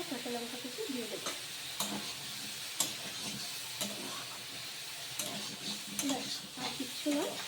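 Chicken stew fries in a pan with a soft, steady sizzle while a utensil scrapes and clicks against the pan in irregular strokes, close by and fairly quiet.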